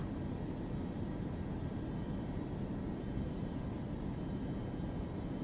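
A big airliner's engines drone steadily in flight in Microsoft Flight Simulator 2024, a constant broadband roar with no breaks or talk.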